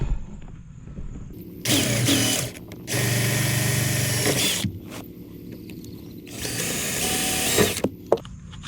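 A power drill drives screws to mount a net holder on a Tracker Panfish 17 boat, with three loud, close bursts of whirring separated by quieter handling and clicks.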